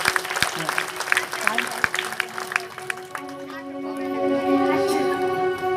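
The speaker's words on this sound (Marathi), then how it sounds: "टाळ्या वाजवायच्या बरं या पात्रकारांसाठी." An audience at a Shiva Mahapurana katha gathering claps for the performers. A patter of hand claps fills the first half before sustained tonal voices or music take over.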